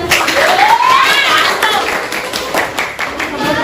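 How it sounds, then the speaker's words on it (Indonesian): Classmates in a sixth-grade classroom clap together in steady applause after a group presentation, with voices and chatter mixed in throughout. "tepuk tangan dulu teman-teman."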